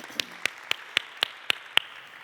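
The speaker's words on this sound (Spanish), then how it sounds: "Un aplauso para ellos." Clapping at a conference talk, heard as a row of seven crisp, evenly spaced claps at a quick, regular beat against a quiet room, with no speech.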